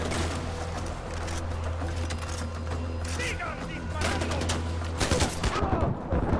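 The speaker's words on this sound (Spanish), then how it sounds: "¡Sigan disparando!" Rapid bursts of gunfire in the video game Far Cry 4 crackle over a steady low hum, with a voice talking over the shots; the firing grows denser and louder toward the end.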